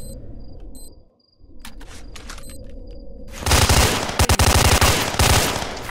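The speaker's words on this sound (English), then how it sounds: "Shoot through the floor." In STALKER: Shadow of Chernobyl, a rapid burst of rifle gunfire rattles out as shots go through the floor, coming after a stretch of quieter ambient game sounds.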